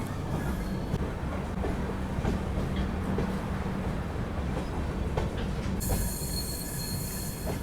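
The New Delhi–Kathgodam Shatabdi Express pulls out of Haldwani station with a loud, steady rumble of rolling wagons and squealing wheels, a faint clickety-clack running through it, and no talking.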